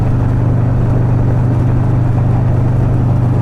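Road traffic moves on a misty route in Mexico, heard as a loud, steady engine drone with a low hum throughout. No voices break in.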